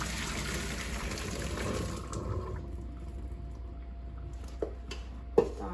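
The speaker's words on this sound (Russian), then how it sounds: "теперь мы выключаем, сливаем воду" Water drained from a pot of boiled potatoes, a steady pouring gush that tapers into a quieter trickle and dribble, ending with a few faint clinks.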